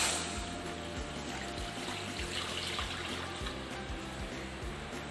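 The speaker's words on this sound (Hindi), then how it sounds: "ओचरी को साफ़ करने के लिए एक बर्तन में हम पानी डाल के उसे गर्म कर लेंगे।" Water is poured into a cooking pot in a home kitchen, a steady splashing trickle heard close and continuing, with no one talking.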